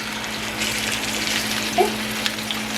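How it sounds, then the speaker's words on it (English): Skin-side-down meat sears in a hot pan, giving a steady, close hiss and crackle of frying fat with a few small pops. "the skin side down first. It's going to sear for just a second."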